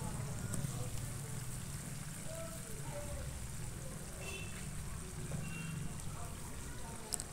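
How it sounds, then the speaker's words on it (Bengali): Onion, ginger, garlic and tomato fry in a pan for a fish curry spice paste, making a faint, steady, crackling sizzle that continues throughout. "তো এগুলো আমি লাল লাল করে ভেজে নেব"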